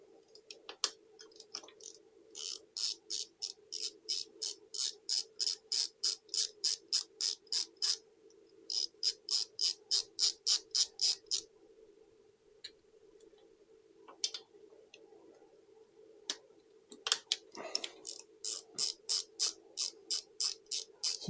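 A 10 mm socket wrench ratcheting off bolts on a Royal Enfield 650, giving long runs of rapid even clicks close by, separated by short pauses and repeated several times.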